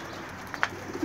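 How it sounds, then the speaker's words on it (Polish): Soft pigeon coos and low murmuring bird sounds in a pigeon loft, close and quiet, in a brief snippet. "są już takie też gruchające gołębie"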